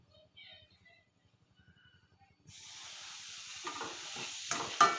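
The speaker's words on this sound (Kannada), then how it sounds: "ಇದನ್ನು ನೀಟಾಗಿ ಹುರ್ಕೋಬೇಕೀಗ ತುಪ್ಪದಲ್ಲಿ" Semolina is roasted in ghee and stirred in the pan. After a nearly silent opening with faint voices, a bright hissing sizzle starts suddenly partway through, with soft scraping stirs rising over it toward the end.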